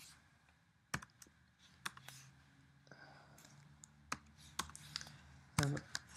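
Faint, sparse clicks from typing on a computer keyboard come in irregular bursts over a quiet room with low background hum.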